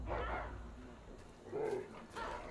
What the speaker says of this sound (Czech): Tak, teď sem pošleme pejska.